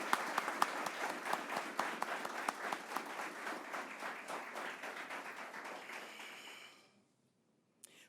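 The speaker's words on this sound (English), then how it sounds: "Can we applaud them all?" A crowd applauds at the grand opening of a workforce development center, with steady, dense clapping for about seven seconds that then stops abruptly, leaving near silence and one last stray clap.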